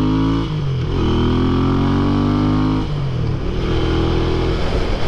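A Royal Enfield Interceptor 650 scrambler with a modified exhaust revs hard and accelerates, its loud, close engine note climbing in pitch through two rising pulls with a brief dip between them.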